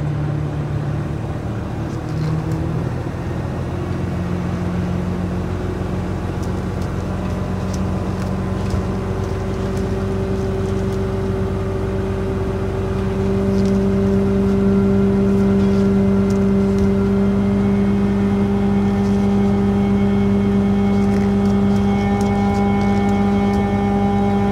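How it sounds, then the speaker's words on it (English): Cane-haulage multi-lift truck running its hoist and winch to lower and pull up a cane bin: a loud, steady mechanical drone with sustained whining tones that rise in level partway through, no talk. "now we've got to stop and lower the hoist even more and then start winching again"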